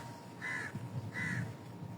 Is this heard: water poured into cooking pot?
no